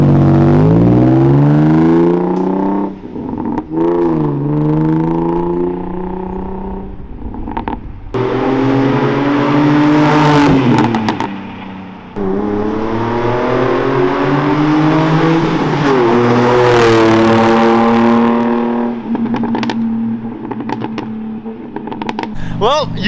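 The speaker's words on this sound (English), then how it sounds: "I know you guys wanted to see a drive-by of how the exhaust in the Z sounds" Nissan 350Z with an aftermarket exhaust makes repeated drive-by passes, engine revving up through the gears with rising harmonic tones, loud and close as it sweeps past several times.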